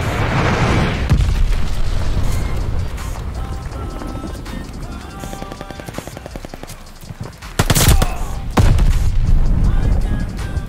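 In the Call of Duty Vanguard video game, a glide bomb explodes with a heavy, booming blast late in the scene. Dense rattling gunfire runs steadily through the whole stretch before it.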